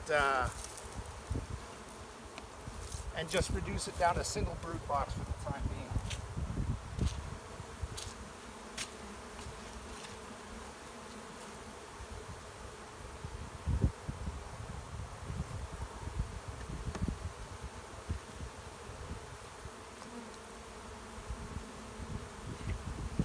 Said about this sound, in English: So I'm going to dump these bees in the front of the hive and let them make their way back